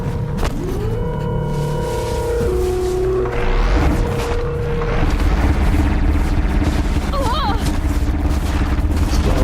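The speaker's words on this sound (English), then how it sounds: "Laser cannon." Laser cannon firing in Horizon Zero Dawn: loud, continuous rumbling and crackling blasts with rising whine-like tones layered over heavy game noise, lasting throughout.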